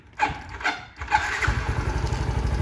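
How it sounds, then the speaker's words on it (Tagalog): A Mio i 125 scooter with an upgraded throttle body is test-fired: a few cranking pulses, then the engine catches and settles into a steady, close, rapid idle putter. "malagitik yung motor dahil sa compression release, parang delay siya mag-release"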